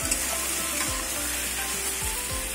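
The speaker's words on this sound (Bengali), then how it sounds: "এবার হালকা হাতে খুন্তি দিয়ে আবার লতিগুলোতে নাড়াচাড়া করতে থাকবে।" Taro stolons fry in a pan with salt and turmeric, a constant close sizzle broken by several gentle scrapes as a spatula turns them.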